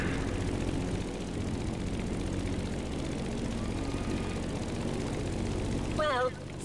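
Propeller airplane engine droning steadily in The Crew Motorfest racing game, a continuous broadband roar under game sounds, with a brief chirping effect near the end.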